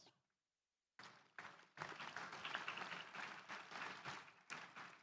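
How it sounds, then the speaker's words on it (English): Graduates applaud themselves at a University of Pittsburgh School of Education spring commencement ceremony, a brief silence giving way to building, uneven clapping that swells and holds at moderate volume. "I really want you as the graduates to give yourselves a round of applause."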